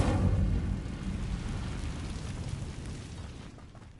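Incendio, a fire spell in Hogwarts Legacy, goes off with a loud, rushing burst of flame that roars at once and then slowly fades over several seconds, with no voices.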